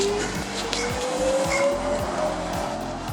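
A Bajaj Chetak electric scooter pulls away in sports mode on a road in Chennai. A thin motor whine climbs steadily in pitch over a continuous rumble of road and traffic noise.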